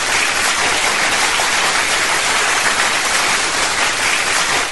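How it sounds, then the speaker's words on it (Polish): A dense, continuous burst of applause from a sound-effect track played over the radio, loud and uniform like a large crowd clapping nonstop for several seconds with no pauses. "Ja teraz szukam sobie oklasków, aby zaklaskać specjalnie dla Justyny."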